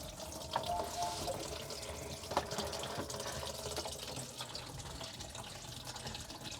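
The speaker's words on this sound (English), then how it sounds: "we're gonna go ahead and drain down this P-trap." Water drains steadily from a sink P-trap while a clogged AC condensate line is being cleared, giving a continuous close trickle and gurgle with a few small splashes and no voices.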